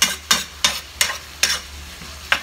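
Pork for Thai pork basil sizzles in a hot pan, with six sharp scraping strokes of the stirring spatula breaking up the meat over a steady frying hiss.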